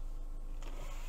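The sunroof motor of a 2023 Cadillac CT4-V hums steadily as the roof opens, a faint electric whine inside the cabin with a brief mechanical shift partway through.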